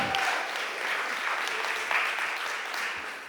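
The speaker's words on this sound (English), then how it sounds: "Women in construction. Y'all clap." A crowd in a Philadelphia City Council chamber claps for Women in Construction Week, a sustained, moderately loud wash of applause heard on its own without speech.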